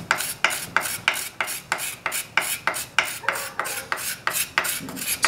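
A hand scraper carving a wooden spoon, a steady rhythmic series of close, sharp rasping strokes, about two per second, with no speech.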